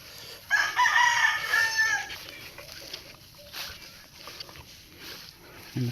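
A rooster crows loudly and close on a small farm among chickens, followed by softer clucking and farmyard sounds near the end.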